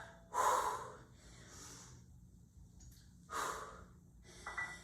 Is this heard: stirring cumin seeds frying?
no